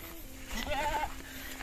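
A single goat bleats once nearby, a short wavering cry over quiet outdoor background.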